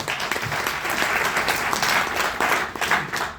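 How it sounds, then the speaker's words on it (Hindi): A crowd at a business gathering breaks into full, dense applause, many hands clapping together at steady loudness for a few seconds with no speech over it. "एक बार जोरदार तालियां होनी चाहिए।"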